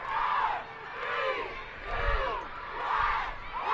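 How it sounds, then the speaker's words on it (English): Spectators at a Division 1 flag football championship game roar and cheer in loud swelling waves, a dense crowd of voices rising and falling several times in quick succession. "There's the crowd."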